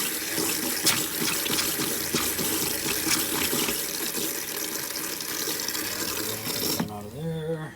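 Antifreeze pours steadily from a camper faucet during winterizing, a continuous rushing stream that cuts off near the end, leaving quieter trickling and a faint voice.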